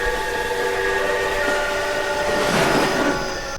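Train in a Pennywise clown horror video game: a continuous rumble of rail cars with a sustained horn blast, loud and steady across the short clip with no talk.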